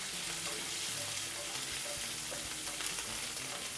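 Curry leaves fry in hot oil in a pan for a fish curry, giving a close, busy sizzle with crackling pops and light stirring throughout the short stretch, with no speech.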